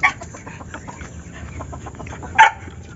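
Rooster, a red junglefowl, clucking outdoors in a short series of low clucks, with a louder call near the end; no one speaks.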